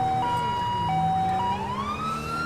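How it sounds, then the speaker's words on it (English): A police siren in the video game GTA V (LSPDFR mod) wails loudly and up close, switching between steady held tones and a rising sweep over a low engine rumble, with no voices. "This is a decent chance to show that this is a new siren."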